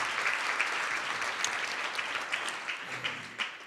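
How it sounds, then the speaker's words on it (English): An audience at Philadelphia's Citizen of the Year Awards applauds former mayor Michael Nutter with dense, steady clapping from many hands that holds evenly for a few seconds. "Please give him a round of applause."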